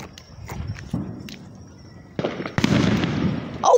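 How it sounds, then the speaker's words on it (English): New Year fireworks pop and bang at a distance in irregular bursts, a few sharper cracks among them, with crackling and faint crowd noise between. "Look at the fireworks!"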